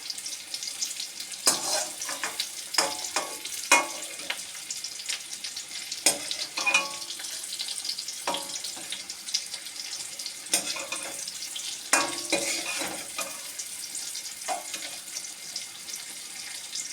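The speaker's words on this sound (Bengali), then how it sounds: "আমি ডিমটাকে ভেজে নিয়েছি আর ফুলকপিটাও ভাজা হয়ে এসছে" Cauliflower and egg fry in a pan, a steady sizzle broken by repeated spatula scrapes and clatters, with some running water.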